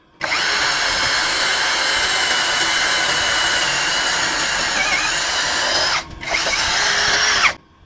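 A Xenon X-CDID707N brushless cordless impact drill runs at low speed, giving a loud, steady whir that continues for about six seconds, breaks off briefly, then resumes before stopping.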